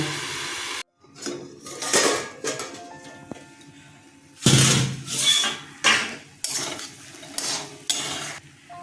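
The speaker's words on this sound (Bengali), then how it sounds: "এখন ঢেকে দিচ্ছি মিনিট পরে ঢাকাটা খুলব" A pot lid clatters down over a vegetable filling cooking in a pan, with a run of close metallic knocks and scrapes of cookware and no one speaking.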